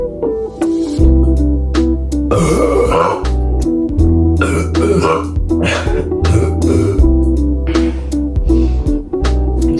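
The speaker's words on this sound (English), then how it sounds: "God dang, that was disgusting. That burp." Loud, drawn-out burps after chugging a Sprite Chill soda, several rough belches in a row with groans and throat sounds between them, close to the microphone.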